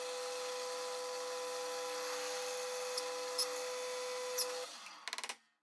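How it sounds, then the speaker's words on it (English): A steady, high-pitched power-tool whine runs continuously for several seconds with a few brief clicks, then stops with a short sputtering rattle. "We're going to drill this hole until this is buried flat on the top."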